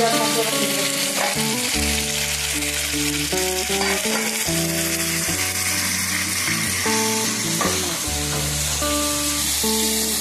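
Beef liver fries in a pan with a steady, loud, continuous sizzle and crackle, while melodic background music plays over it throughout.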